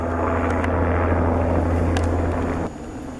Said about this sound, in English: It is a helicopter. I bet that's the SARS helicopter.